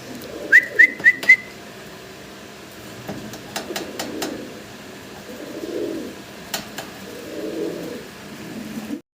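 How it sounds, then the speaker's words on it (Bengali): A few short whistle-like calls at the start, then soft, low cooing from a Lahori pigeon that repeats in gentle swells, moderately close and without voices. "ভিডিও স্ক্রিনে আপনারা এক লাহরি কবুতর দেখতে পারতেছেন"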